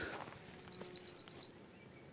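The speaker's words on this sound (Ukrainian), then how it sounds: "Чуєте, як пташечка співає гарно." A small bird sings near a vegetable garden in a field: a rapid, close run of about a dozen high, thin chirps ends in a held whistle, with no voices.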